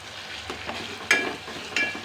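Green masala paste fries in a pan for a rajma curry, giving a soft steady sizzle with a couple of brief scraping stirs close by.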